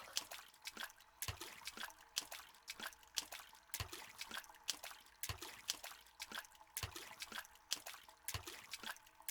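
Water splashes in a steady series of sharp, irregular bursts, faint and somewhat distant, repeating every half second or so over a quiet background.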